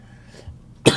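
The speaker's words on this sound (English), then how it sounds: "Sorry, I still get this pesky cough." A single short, sharp cough bursts out near the end after a quiet stretch, close to the microphone and loud.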